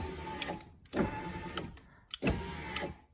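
A 1998 Ford F150 driver's door power window motor runs in short bursts, three separate whirring pulses with brief pauses between them, close and clear with no talking.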